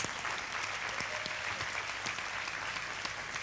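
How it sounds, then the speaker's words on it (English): A school audience claps for a nursery class's performance, children aged three to five, a dense, steady round of applause that fills the room evenly from start to finish. "Let's give them a big round of applause."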